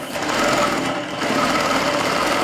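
A quilting machine stitches a curly rose design, its motor running in a loud, continuous high-speed buzz with a fine rapid needle rhythm and no pauses.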